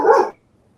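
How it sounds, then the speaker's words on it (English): A dog gives a single loud, close bark indoors, cut off sharply and followed by near silence. "Sorry about the dogs. They have opinions about this topic too."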